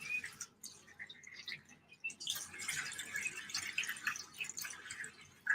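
Water poured and trickling into a container while mixing a dye solution, close and fairly quiet, with irregular splashing and dripping that swells in the second half.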